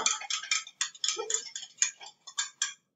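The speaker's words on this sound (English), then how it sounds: "And then just whisk that together" Fork whisking water and lemon juice in a bowl for home-made pastry: quick, bright metallic clinks and taps in an uneven, rapid rhythm, close and clear with no talking.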